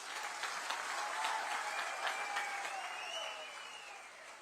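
Crowd applause at a Haryana political campaign rally, sustained clapping that stays steady throughout with a faint high whistle-like tone running through it.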